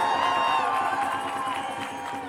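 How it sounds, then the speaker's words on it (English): A crowd at a Gaza ceasefire march cheers and claps. A burst of shouts and applause fades gradually over a couple of seconds, with whoops and voices mixed into the noise. "Give yourselves a round of applause."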